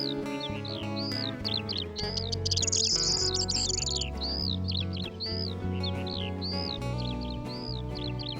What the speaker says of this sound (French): De petits passereaux, plus discrets, se signalent par leur chant printanier